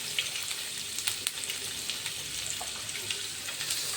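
Garlic frying in a pan before onion is added, a quiet close sizzle with crackling pops scattered through it.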